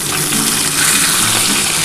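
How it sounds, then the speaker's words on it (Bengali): Pomfret fish frying in hot oil in a pan, a loud, steady close-up sizzle with no break. "চলো বন্ধুরা, আমার মাছটা ভাজা হয়ে গেছে। এবার মাছটা নামিয়ে নিচ্ছি।"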